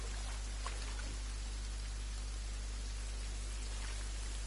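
Steady, even rain hisses continuously in a fishing video game, a constant broadband wash with a low mechanical hum beneath it and no talking.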